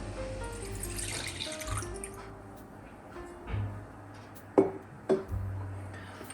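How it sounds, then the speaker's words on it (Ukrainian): Warm milk poured into a bowl for pumpkin cinnamon bun dough, a short liquid trickle and splash followed by a couple of distinct drips, close and fairly quiet. "В миску наливаю тепле молоко температурою не вище 40 градусів"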